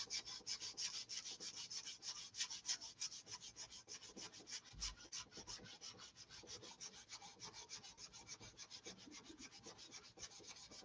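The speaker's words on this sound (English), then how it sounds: "Sanding." Hand sanding of wood, a rapid, even rasping stroke repeated steadily for about eleven seconds, close but quiet, with no voices.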